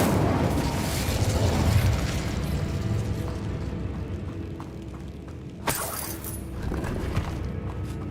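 Incendio fire spell cast in Hogwarts Legacy: a loud, sustained roaring whoosh of flame that fades, then a sharp burst with a crackling flare near the end, with no voices.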